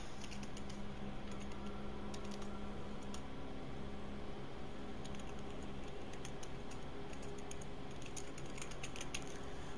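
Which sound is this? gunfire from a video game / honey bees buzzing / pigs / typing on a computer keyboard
typing on a computer keyboard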